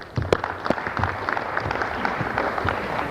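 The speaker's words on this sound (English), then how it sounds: "Give him a clap." A short round of clapping from participants at a basketball coaching workshop, modest and uneven with a few distinct claps over a light murmur of the group.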